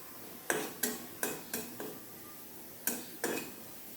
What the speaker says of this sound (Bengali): রসুনটা আমি ভালোভাবে ভেজে নেব